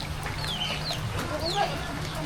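Chickens cluck and squawk close by in a pen with ducks, a few calls overlapping, over a steady low hum and some background chatter.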